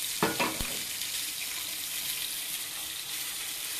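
Home fries with cauliflower and other vegetables sizzling in a frying pan, a steady hiss after a couple of quick clicks at the start; no talking.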